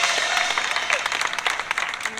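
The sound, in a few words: audience applause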